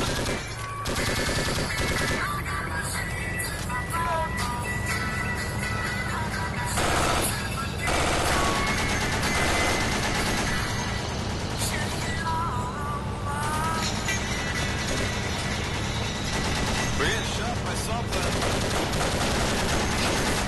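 Sustained, rapid automatic fire from a door gun in the Project Reality Vietnam game, loud and near, hammering almost without pause over engine rumble and other battle noise.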